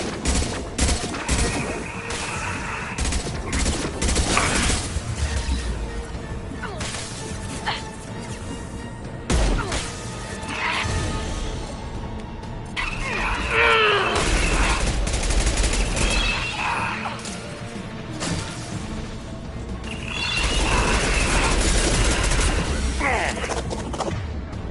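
Sustained gunfire rattles through a Mass Effect 2 firefight: bursts of rapid automatic shots and impacts come in waves with brief lulls, loud and close, with some speech.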